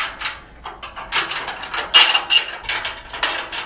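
An open-end wrench ratchets and clicks while tightening nylon nuts onto the uprights of a steel low-bed trailer during assembly, in quick close bursts of metallic clatter.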